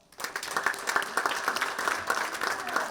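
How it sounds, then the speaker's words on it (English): Audience applause greets an MC taking the stage at a fintech industry event, a dense, steady wash of many clapping hands lasting a few seconds at moderate distance. "Everybody give her a round of applause."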